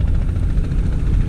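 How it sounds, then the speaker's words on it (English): A low-flying helicopter passes over a clear river, its rotor producing a loud, close, rhythmic chopping thump with a deep engine rumble throughout the short stretch. "That helicopter is really low."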